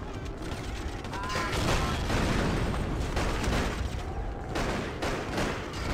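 Machine gun nest fire in the video game Freedom Fighters, during a high school level: dense, rapid automatic bursts that roll on continuously and loudly for the whole span, with rattling mechanical clatter mixed in.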